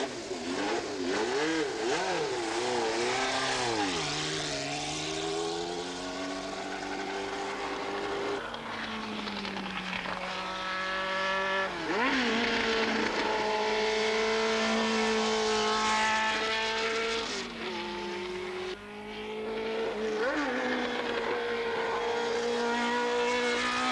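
A 1978 Tyrrell 008 Formula 1 racing car drives hard, its high-revving engine climbing and dropping through gear changes in a loud, continuous wail that stays close throughout.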